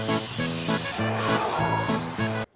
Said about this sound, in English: I'm starting to get the hang of this spray painting